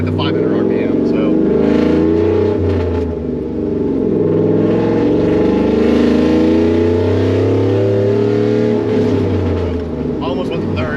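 Chevrolet Silverado 4.8 V8 truck with a five-speed manual, its engine droning steadily while driving, loud and continuous with a low rumble throughout, a voice talking over it.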